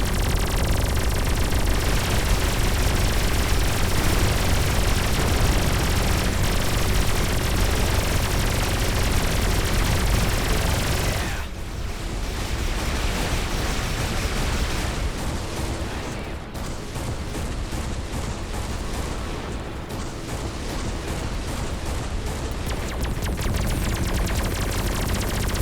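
Weapon fire in the space shooter Everspace 2, including a destabilizer weapon, sustained dense rapid gunfire and static-like blasts, loud and continuous, easing slightly partway through.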